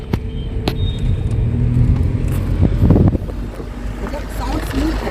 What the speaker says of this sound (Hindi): अभी मैं नॉर्मल जो है 1 नंबर गियर में जा रहा है